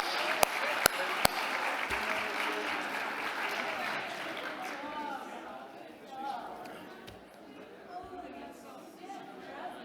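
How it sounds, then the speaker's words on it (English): An audience claps at an Indigenous-led clean energy gathering, loud sustained applause that slowly thins into scattered clapping and crowd chatter, with a few sharp knocks near the start. "let's give them a round of applause"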